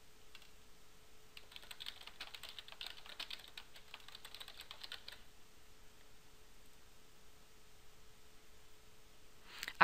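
Steady bursts of computer keyboard typing as search terms are entered, fast light key clicks in a dense run through the first half, then quiet with a soft hum, close and alone.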